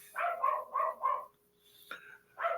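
A dog barks four times in quick succession, then pauses before a sharp yelp and one more bark, close and fairly loud with no talking.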